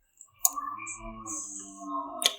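Two sharp, close computer mouse clicks sound about two seconds apart, with a faint tonal hum and quiet background sounds between them.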